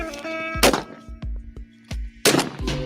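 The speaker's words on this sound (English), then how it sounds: "he shoots the skeets at him." Gunshots from a shotgun firing at skeet targets, several sharp loud blasts spaced irregularly, with a few lighter thuds between them.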